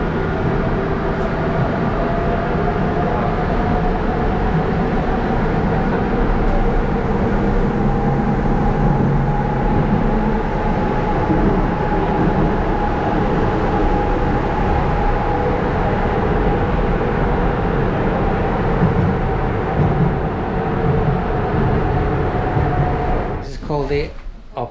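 A Budapest metro train rumbles steadily through a narrow underground tunnel, a loud continuous roar with a droning whine throughout, ending with a brief screech as it slows.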